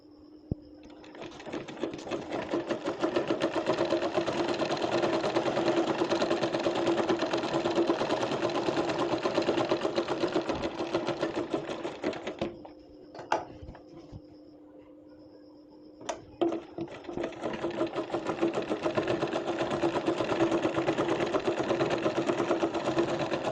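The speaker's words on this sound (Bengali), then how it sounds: "আমি আরেকটা পার্টও এইভাবেই সেলাই করে নিচ্ছি।" A sewing machine runs in fast, even bursts while stitching the pieces of a baby's pajama, a close rhythmic whirring chatter that pauses briefly near the middle before starting again.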